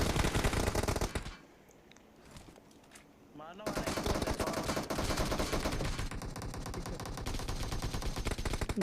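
Automatic rifle fire in the mobile battle royale game PUBG Mobile, with dense rapid bursts that drop out briefly before resuming as sustained loud gunfire, with a voice talking over it.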